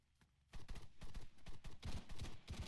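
Rapid bursts of gunfire in the Arma 3 military video game, loud and dense, firing in quick repeated volleys after a brief quiet start.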